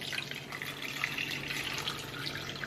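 Water poured from a tap into a crockpot to make chicken broth for a slow-cooker chicken meal, giving a steady, close, moderately quiet splashing stream that lasts the whole stretch with no talking.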